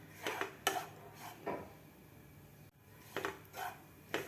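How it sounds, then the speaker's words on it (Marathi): Grated coconut roasting in a hot pan over medium flame, stirred with a utensil: quiet scraping and light metallic clinks come in short bursts separated by near silence. "थोडंसं हे हलवून घ्यायचं आहे गरम पॅनमध्ये"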